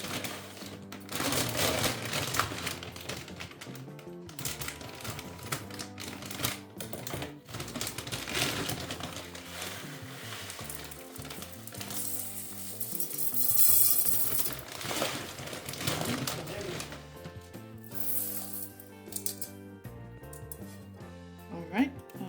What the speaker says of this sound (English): we will try and open our 5 kilogram rice